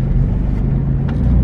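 A car driving right after its warning light has been reset, with a steady low engine rumble held close and loud throughout and no talking.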